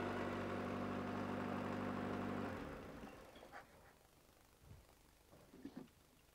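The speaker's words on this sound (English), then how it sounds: "so we'll turn the engine off now" A car engine idles steadily with a loud, even hum for about two and a half seconds, then cuts off, leaving faint knocks and handling sounds in a quiet space, during a home maintenance oil check.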